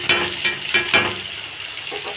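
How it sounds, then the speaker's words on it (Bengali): Fish fries in the oil released from its own flesh, crackling and spattering in uneven bursts close to the pan, with no voices. "মাছের তেলেই মাছ ভাজা হচ্ছে।"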